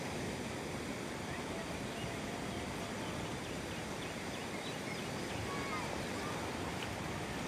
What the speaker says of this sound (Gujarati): જુઓ, આ સરસ મજાનું પાણી આવે છે